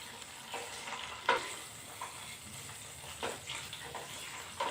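Five or six green chillies fry and sizzle in hot oil for a mango-leaf and lemon pickle, a soft continuous crackle with a few stirring scrapes, fairly faint and close.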